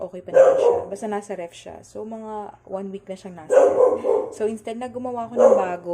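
A dog barks repeatedly nearby in a home kitchen, with several loud bursts that break in over and overlap someone speaking.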